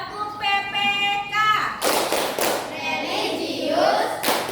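A sixth-grade class does the Tepuk PPK clapping chant: a drawn-out sung call of voices, then loud bursts of group hand claps with chanting voices over them, close and lively.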